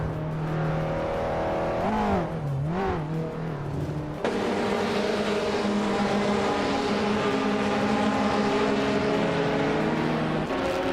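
GT4 race cars in a racing video game roar past with steady, high-pitched engine drones, one car's note swooping up and down as it shifts and accelerates, close and loud throughout.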